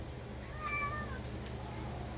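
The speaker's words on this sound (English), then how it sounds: "The other meowing you're hearing is Griffin." A single cat meows once, a short rising-and-falling cry over a steady low background hum.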